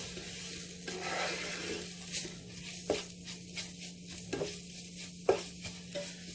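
Ground spices and cumin powder sizzling in a frying pan while being stirred for a vegan tofu biryani, a steady soft hiss broken by repeated scraping strokes of the spoon, close and with no talk.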